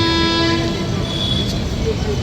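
A diverted express train departs with a steady horn tone sounding over the rumble of rolling carriages, loud and close throughout.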